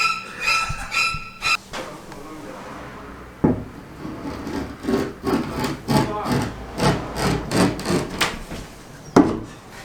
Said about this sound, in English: I was scraping my hammer across the top for sound effects